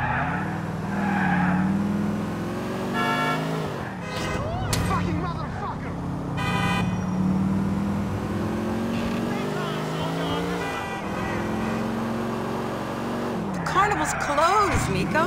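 A car driven through city streets in Grand Theft Auto IV, the engine revving up and down with shifting pitch and occasional tire squeals, close and steady throughout, with a voice talking over it.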